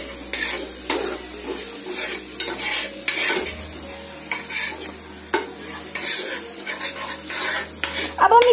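Masala being stirred into Maggi noodles with vegetables in a pan, a spoon scraping and clinking against the metal in an uneven rhythm over a steady low sizzle, close and moderately loud, no talking.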